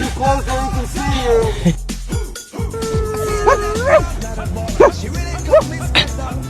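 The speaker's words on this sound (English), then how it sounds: "Who's BB's best lab dog" Labrador dogs bark and whimper in a lively burst, with sharp yips and rising, whiny cries repeating close by over several seconds, broken by a brief pause before more short yelps follow.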